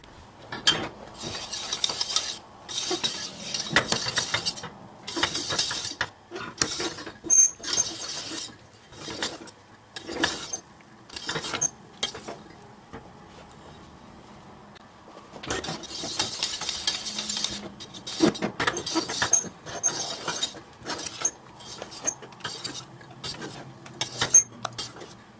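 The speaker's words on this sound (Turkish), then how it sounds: "Hala sürekli karıştırarak pişirmeye devam ediyorum." Turkish delight (lokum) being stirred continuously in a pot as it thickens on the stove, repeated scraping and rasping strokes in irregular bursts with brief pauses, close and moderately loud.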